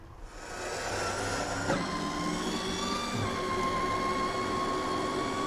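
Whining electric motor of a Traxxas RC car spinning its wheels, a steady high-pitched drone that rises slightly in pitch as wheel speed increases, with no talking.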